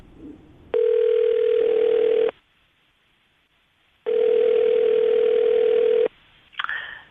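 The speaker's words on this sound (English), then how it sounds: "We're going to call him right now and see if we can get him on the phone" Two long, loud steady ringback tones of an outgoing telephone call on a morning radio show, separated by silence, followed by a brief click as the line connects.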